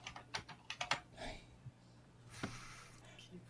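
Quick clattering keystrokes on a computer keyboard come in a short burst, then fade to faint breathing and sniffs close by, with a few scattered taps near the end.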